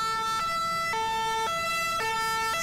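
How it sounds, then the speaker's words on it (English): A two-tone English police siren alternating steadily between a high and low pitch, switching about every half second, loud and continuous with no other sounds. "I want it to sound like an English police siren"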